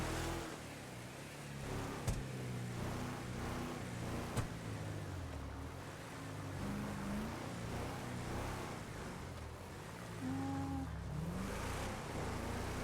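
A truck engine in GTA V running on the FiveM roleplay server, revving and rising in pitch several times across a steady, moderately loud drone, with no voices over it.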